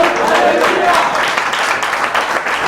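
Congregation applause during a Christmas service at a church in Oman: a loud, dense, continuous wash of clapping from the crowd, with voices mixed in.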